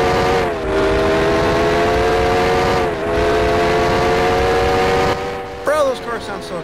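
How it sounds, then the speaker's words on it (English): A car engine in a highway driving video game hums loud and steady with sustained harmonic tones, briefly dipping twice before a shift near the end. "Oh my god, this engine sounds so good."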